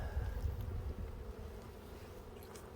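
Honey bees buzz at the entrance of a hive in March, forming a steady low drone close by with no talking over it.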